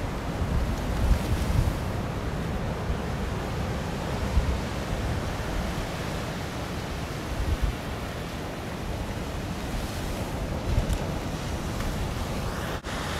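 Ocean surf rolls steadily along a seaside shore near Itajaí, Brazil, on a fine day, a dense continuous wash of waves mixed with wind buffeting the microphone, loud and unbroken with no talk.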